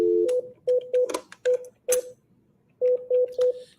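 DTMF telephone dialing tones while calling the White House comment line: a rapid run of short beeps, a pause, then another burst of beeps, loud and close with no voices.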